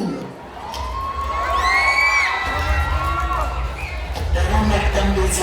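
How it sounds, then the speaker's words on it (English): Crowd cheering, whooping and shouting for pageant contestant number 13 at a coronation night, loud and sustained over a thumping bass-heavy music track, with a voice calling out over the din. "A round of applause for our Mutya,"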